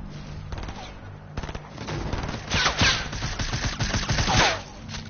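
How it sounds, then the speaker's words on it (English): Bursts of video game gunfire crackle through a multiplayer firefight, with rapid shots clustering in dense volleys, mid-distance, over background game sounds. "They're shooting."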